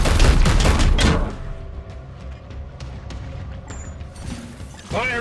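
Rapid bursts of gunfire from the Warhammer 40k Chaos Gate Daemonhunters video game, starting loud and dense with crashing impacts, then dropping to a quieter mechanical rumble before a final burst.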